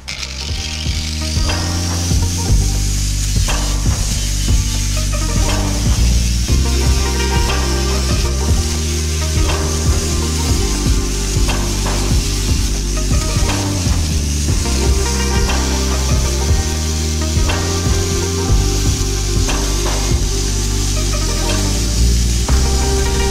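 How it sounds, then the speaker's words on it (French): An angle grinder trimming steel rebar for a spice rack runs loud and continuous for the whole stretch, a steady high-pitched grinding whine over a droning motor hum, with no speech. "on va ajuster un petit peu à la disqueuse"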